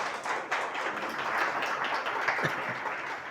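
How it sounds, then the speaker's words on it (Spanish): A church congregation applauding during a Spanish-language sermon, a steady, moderately loud patter of many hands clapping with no speech over it. "Denle un aplauso al Señor"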